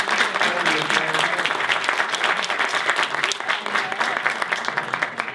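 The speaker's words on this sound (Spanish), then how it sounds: "Un aplauso, por favor, para el equipo de debate." Dense, steady audience applause fills the hall for a university debate team at the final of an interuniversity debate tournament at UTFSM in 2015, sustained and loud throughout without a break.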